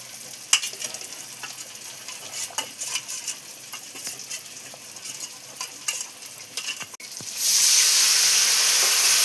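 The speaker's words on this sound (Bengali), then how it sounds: "মশলাটা কষানো হয়ে গেছে ঠিক মতো" A paste of turmeric, cumin and coriander powder mixed with water fries in a pan, with steady scraping stirs over a low sizzle, then a loud, continuous hiss swells up in the final seconds. No one speaks.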